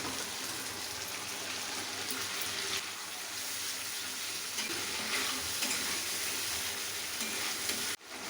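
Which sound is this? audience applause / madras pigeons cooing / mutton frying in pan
mutton frying in pan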